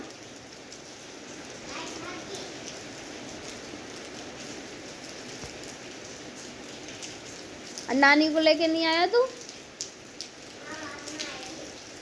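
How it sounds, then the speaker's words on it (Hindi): Rain just beginning to fall, a constant soft hiss that runs throughout, while a voice speaks briefly near the end and fainter talk surfaces now and then. "अब बारिश स्टार्ट।"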